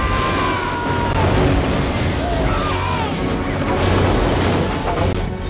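A bomb blast in the action film Last Action Hero: a loud, sustained rumbling boom with crashing debris and roaring fire spread over several seconds, heavy low end throughout, mixed with other soundtrack noise.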